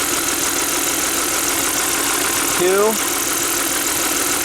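An Audi A6 wagon's engine idling with an ignition coil misfire, a steady rough hum throughout, with a person briefly speaking over it.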